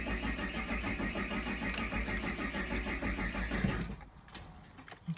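An old car with a weak battery and electrical issues is cranked repeatedly on a NOCO Genius Boost Plus GB40 1000-amp jump starter but fails to catch, a steady close, loud cranking drone that cuts off near the end.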